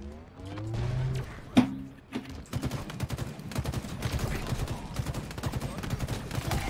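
Gunfire and engine noise from the video game Halo Infinite during a match with a Warthog vehicle, with bursts of shots and a sharp impact early on over a busy, continuous mix of game sounds, loud and close.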